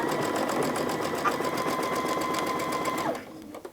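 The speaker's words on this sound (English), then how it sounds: "Now you're gonna wanna sew this straight down without any wrinkles in it." A sewing machine runs in one steady, close stitching burst for about three seconds, sewing the binding straight down on a quilted mug rug, then stops abruptly with a faint click of handling afterward.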